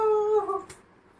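A dog lets out a short, close, pitched howl that slides down into a whimper, lasting under a second in an otherwise quiet room.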